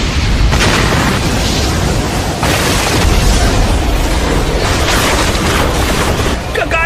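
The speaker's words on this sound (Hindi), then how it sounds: "Wind style pressure damage." A loud, continuous blast of rushing wind and explosive booms from the Wind Style Pressure Damage jutsu in Naruto Shippuden, a dense roar sustained for several seconds with surging bursts throughout.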